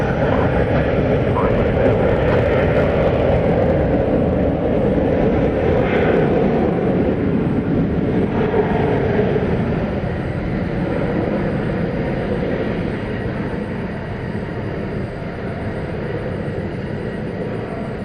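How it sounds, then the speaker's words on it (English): A British Airways Airbus A380 takes off from runway 18 right at DFW Airport at night, its jet engines a loud, steady broadband roar that fades slightly over about eighteen seconds. "So the British Airways A380, looking at it here, estimated departure"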